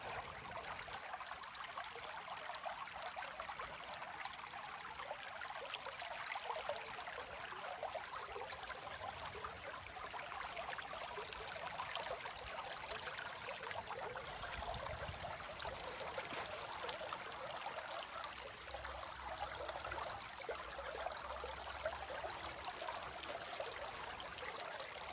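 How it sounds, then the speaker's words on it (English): A spring-fed creek fed by two natural springs flows steadily as a soft, continuous trickle and wash of water, fairly faint and close, with no talk over it. "This creek is fed from two natural springs."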